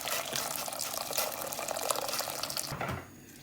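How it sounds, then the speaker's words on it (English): Hot water poured in a steady gushing stream into a deep pan while making a mango and sago dessert, running continuously for about three seconds and then cutting off. "I'm going to add the hot water first."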